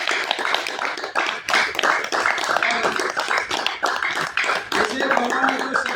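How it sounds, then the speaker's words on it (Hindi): A group claps loudly and rhythmically during a yoga session, steady hand claps mixed with voices speaking over them. "एक बार प्रसाद जी की तरफ से जोरदार ताली हो जाए।"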